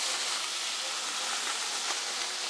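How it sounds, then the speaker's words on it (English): Mussels sautéing in a hot pan give off a continuous bright sizzling hiss, steady and close, with no talking. "Next thing we're going to do is saute the mussels."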